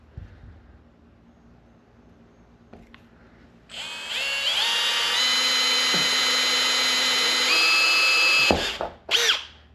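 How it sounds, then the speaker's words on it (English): A power drill fitted with a 1-inch step bit bores through the metal roof of a first-generation Toyota Tacoma. After a quiet start it spins up into a loud, sustained high whine with shifting pitch, then stops abruptly with a short burst of clatter. "we're just going to use a 1-inch step bit"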